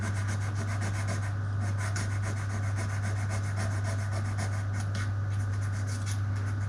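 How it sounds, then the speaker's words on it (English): A computer chip pin on a BBC Master 8-bit microcomputer being gently rubbed to remove tarnish, giving a continuous close, fine scratchy rubbing over a steady low mains hum, with no talk. "So I'm going to gently rub the tarnish from the pin."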